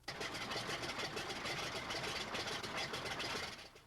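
A Red Baron Stearman single-engine biplane's engine drones steadily and evenly at a moderate distance, then fades slightly at the end.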